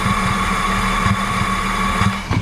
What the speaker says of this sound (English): you can see the engine shaking around, and you hear that boom, boom, boom, boom, boom, boom